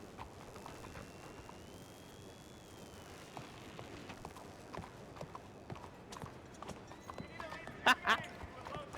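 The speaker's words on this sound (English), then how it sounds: "Vinny, for the love of God, do not get on that horse." Steady clip-clop of horse hooves trotting, with a brief whinny near the end, under a constant background bed and people talking.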